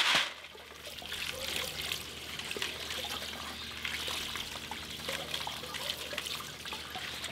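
Water trickling and sloshing steadily as sapphire-bearing gravel is washed and tumbled in stacked screening pans, close up and fairly quiet, with no talking.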